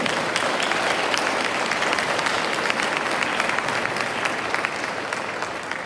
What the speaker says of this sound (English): One more round of applause, ladies and gentlemen, for the Jordan High School Junior ROTC today.